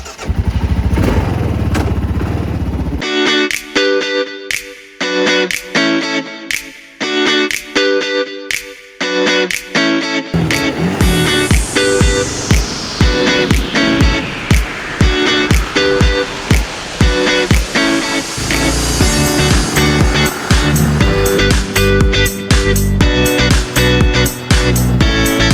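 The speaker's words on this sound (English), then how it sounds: "let's go for a little shakedown run on the KLR" Kawasaki KLR motorcycle on a road ride, its engine droning loud and steady with rushing wind noise throughout, broken by rhythmic pulses and shifting tones.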